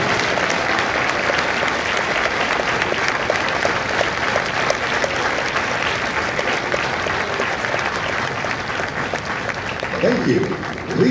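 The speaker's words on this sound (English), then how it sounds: "a round of applause for their dedicated service to Corps and country." Sustained, dense audience applause at a Marine Corps recruit graduation ceremony in San Diego, steady and loud throughout, with a voice briefly emerging near the end.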